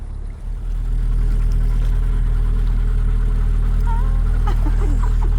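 A canal narrowboat engine runs with a steady, loud low throb as the boat pulls away from its mooring, continuous throughout with faint background sounds.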